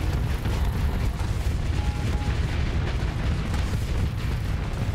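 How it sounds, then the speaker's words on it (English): Ships exploding in a space battle in the video game Starsector, a dense continuous rumble of deep booms and bursts, loud and sustained with no speech over it. "there's a high chance something's going to explode"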